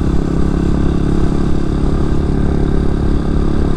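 A 2003 Honda CRF230F dirt bike engine runs steadily and loudly close by, a continuous rough mid-pitched drone with clattering texture and no clear revving, heard on its own without voices.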